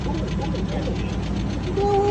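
A cheap Land Rover Discovery II with a bad motor runs steadily at close range, its engine hum carrying a faint, rapid ticking throughout, with a brief tonal whine near the end.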